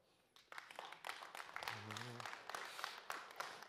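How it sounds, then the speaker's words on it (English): Audience at a science festival talk on reinventing the toilet clapping for a microwave toilet concept, a modest burst of hand claps with scattered voices and a brief harmonic voice partway through. "clap your hands if you like the microwave toilet"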